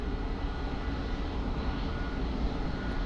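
Airliner engine roar at Lisbon Airport as a plane comes in to land, a steady, broad, loud rumble with no voices over it.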